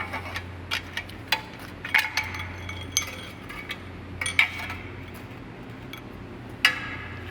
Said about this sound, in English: I'll get this backing plate off of here.